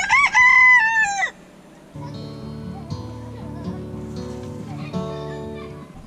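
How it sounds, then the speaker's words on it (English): Roosters crowing in a coop with hens at Slide Ranch, one loud close crow at the start followed by quieter clucking and farmyard murmurs. "So looks like there's the roosters in there."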